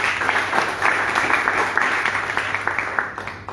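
Applause at a literary prize ceremony, a full steady round of clapping from the audience in a hall, fairly loud and continuous, easing slightly at the end, with no speech over it.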